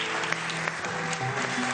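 A studio audience on a live Ramadan iftar show breaks into dense, steady clapping that fills the short moment without pause, loud and close.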